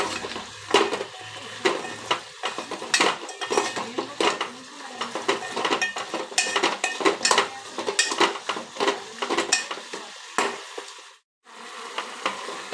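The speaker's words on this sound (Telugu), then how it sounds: "ఇలా కలుపుకోవాలి మొత్తం కలిసేలాగా" A spoon scrapes and clatters around a pan while chilli idli pieces with large-cut onions and sauces are stirred together, a busy run of close metallic knocks and scrapes over a light sizzle, with no talk.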